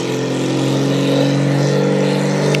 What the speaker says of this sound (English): Lots and lots of revs.